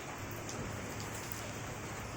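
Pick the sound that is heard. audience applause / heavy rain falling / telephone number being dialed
heavy rain falling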